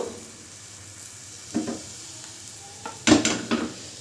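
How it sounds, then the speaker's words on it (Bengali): Patisapta pitha batter swirled around a hot pan, giving a soft, faint sizzle with a few short scraping and clinking touches of utensil against metal, and no talk. "অল্প অল্প করে দিয়ে দেব অল্প করে দিয়ে এভাবে একটু নাড়িয়ে এভাবে গোল করে নেব"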